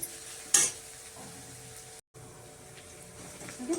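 Onions frying in a pan for liver pepper fry, a low steady sizzle with a sharp scrape of stirring near the start and a brief gap of silence midway.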